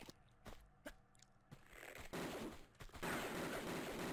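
Automatic pistol gunfire from Tomb Raider 2 Remastered, set in the Opera House level: a few sparse shots at first, then rapid sustained bursts that grow louder and denser toward the end, heard alone without talk.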